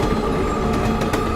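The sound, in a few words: train running without stopping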